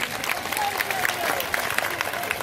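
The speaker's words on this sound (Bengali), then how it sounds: "আমরা শিক্ষক সমাজের লাগে একটা হাততালি" An audience at a Sylheti stage drama program in Golapganj claps together in a dense, sustained burst of applause that fills the hall.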